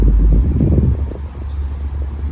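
A 70 Hz bass test tone from a car subwoofer drones as a low, steady hum, loudest at first and then settling at a moderate level, with some rumbly outdoor noise.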